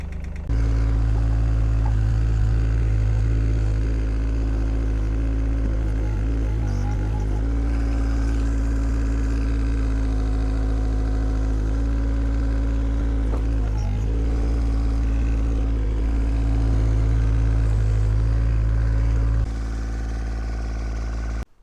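A Hitachi mini digger's small diesel engine idles steadily while warming up, with a deep, constant rumble that holds even throughout, close by and with no voices.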